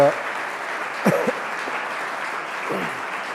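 Festival audience applause welcoming two speakers, a soft continuous patter of clapping with a voice briefly heard over it.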